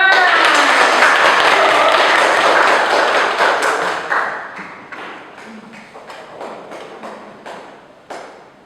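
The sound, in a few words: class applause, clapping hands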